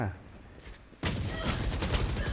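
Gunfire in VALORANT starts abruptly and turns into rapid, dense bursts of shots that keep going loudly, following a quieter stretch with faint sounds.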